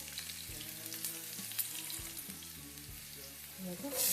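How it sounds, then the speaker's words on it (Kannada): Mustard seeds and green chilies sizzle in hot oil for North Karnataka-style girmit. The frying is steady and close, with crackles and stirring, and it swells louder at the end without any talk. "ಸಾಸಿವೆ ಇದ್ದೀನಿ ಹಸಿಮೆಣಸಿನ್ಕಾಯಿ ಹಾಕ್ಕೊತಾ ಇದ್ದೀನಿ"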